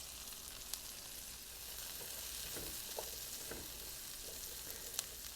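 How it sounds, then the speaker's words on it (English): Asparagus sautés in butter with garlic, making a quiet, even sizzle with occasional soft utensil taps against the pan and no one speaking. "I'm just going to let this saute until this asparagus is nice and tender."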